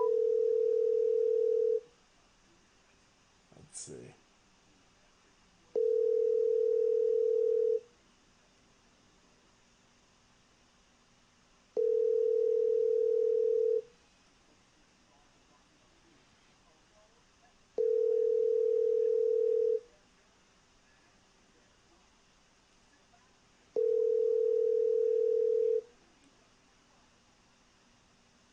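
Repeating ringback tones on a phone call, five evenly spaced two-second beeps separated by quiet gaps, with a faint hiss underneath and a brief rustle near the start.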